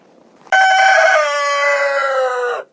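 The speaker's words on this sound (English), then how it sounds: "see how the chickens are today" A loud, close rooster crow rings out from a chicken coop in one sustained call lasting about two seconds, then stops.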